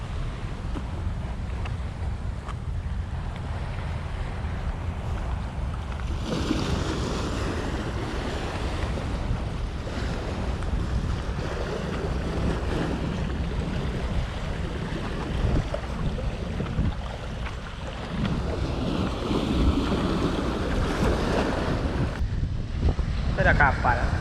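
A boat moves at sea near Pulau Merak Kecil, with continuous rushing wind buffeting the microphone and waves washing against the hull, loud and close, while people talk over it.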